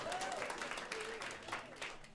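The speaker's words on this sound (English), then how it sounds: "give yourselves a round of applause" An audience applauds at an event, with a brief, steady spread of clapping at moderate distance and faint voices and whoops over it.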